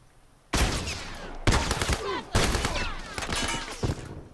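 Gunshots in The Last of Us multiplayer: three loud, close blasts at roughly one-second intervals, each followed by a long ringing reverberant tail that fills the gaps, with no clear talk.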